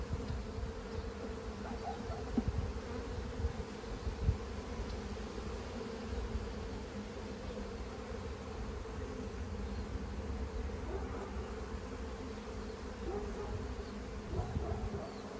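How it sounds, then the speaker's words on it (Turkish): A swarm of honeybees buzzes steadily around a hive after settling into a trap box, a dense, continuous drone that fills the whole stretch at close range with no voices. "Arının çoğu kovanın etrafında arkadaşlar."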